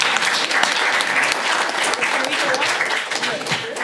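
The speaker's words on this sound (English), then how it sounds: "Now that deserves a round of applause" Steady applause fills a city council meeting chamber in Inkster, a dense, even clapping from the gathered audience that holds at a fairly loud level for several seconds.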